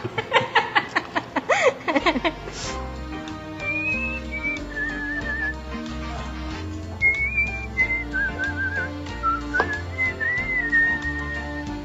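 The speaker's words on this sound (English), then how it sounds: "And I like to whistle" A person whistles a melodic tune over background music with steady beats, the whistled notes clear and close, rising and falling in pitch.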